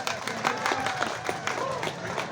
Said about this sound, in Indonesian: Tepuk tangannya artinya naon?